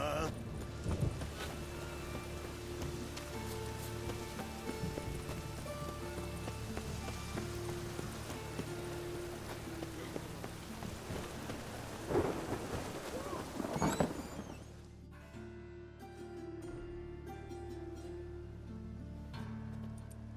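Steady rain pours in The Witcher 3: Wild Hunt with low rumbles of thunder rolling underneath, then the storm sound drops away abruptly, leaving quiet ambience.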